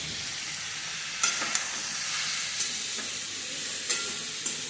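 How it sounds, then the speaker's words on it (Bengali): Bori, small lentil dumplings, fry in hot oil with a dense, continuous sizzle and occasional light taps of a spoon against the pan. "এখানে বড়ি ভেজে রাখছি বন্ধুরা"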